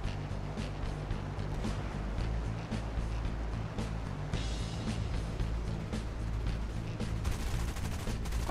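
Rapid bursts of machine gun fire from an F2A Buffalo fighter in a flight simulator game, repeated dense rattling over a steady engine drone, loud and close throughout.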